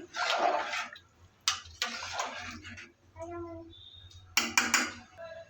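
Water pours in a few splashy bursts into a pot of chicken khichuri, with brief pauses and some faint tonal sounds between the pours.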